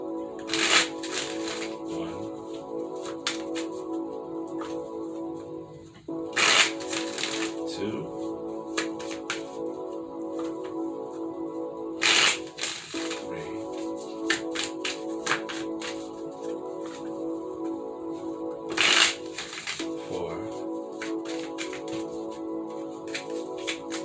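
Tarot cards being shuffled in several quick riffling bursts, each a crisp flurry of flicks, over a steady background hum.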